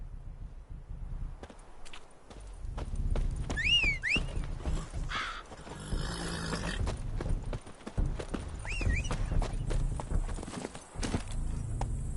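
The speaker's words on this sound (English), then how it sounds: "Come on, Roach." Hooves of the horse Roach clip-clopping in a steady trot in The Witcher 3, close and continuous, with a couple of short whinnies and faint ambient game sounds.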